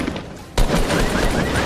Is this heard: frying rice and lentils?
no